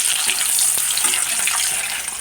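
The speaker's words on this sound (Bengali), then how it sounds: "ডিমটা ভেজে নিচ্ছি" An egg frying in a pan of hot oil for an egg curry, giving a steady, close hiss and crackle that runs unbroken throughout with no voices.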